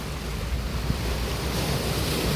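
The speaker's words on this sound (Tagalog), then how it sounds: "Nakikinig sa sa ingay ng tubig," Waves wash and splash steadily at a favourite waterside spot, a continuous broad rush of surf mixed with wind buffeting the microphone, with no talking.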